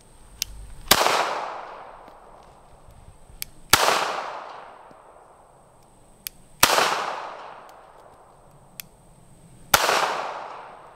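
Four loud, sharp gunshots from a Smith and Wesson Bodyguard 2.0 .380 pistol, spaced about three seconds apart, each cracking out and ringing off into a long decaying echo, with faint clicks between shots.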